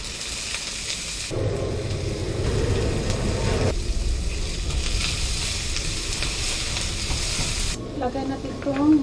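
Fish frying in hot oil sizzles loudly and continuously, with bursts of crackling spatter and occasional stirring noises near the end, no voices.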